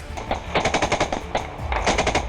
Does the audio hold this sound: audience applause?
no